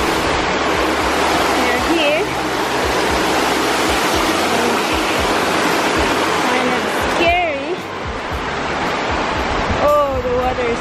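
Rushing water of Tung Chung Falls on Wong Lung Hang stream pours in a constant broad roar close by, while people talk briefly over it.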